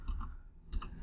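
Brief soft taps on a computer keyboard, two short clusters of keystrokes separated by a pause, close and quiet.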